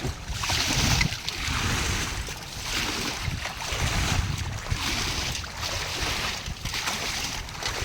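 Strong water from a solar-powered water pump hose rushes steadily, a loud, continuous gushing spray that rises and falls slightly in waves, with no talking.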